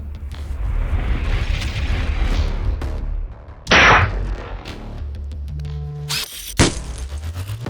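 A single loud rifle gunshot cracks out over steady outdoor rumble and wind, followed by a sharp high-pitched ringing tone, during a markhor hunt in Iran.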